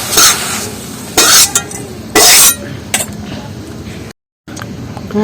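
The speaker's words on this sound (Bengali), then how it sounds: "আর এই কুমড়ো পাতার গায়ে যা জল আছে রসটা একদম একটু শুকনো করে নেবো এইভাবে জাল দিয়ে" Pumpkin leaves being dry-roasted in a pan, heard as loud bursts of scraping and rustling stirring with a soft sizzle, separated by brief pauses and a short moment of silence.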